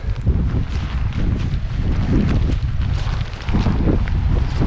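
Strong wind blows on a beach, buffeting the microphone with loud, steady low rumbling gusts throughout.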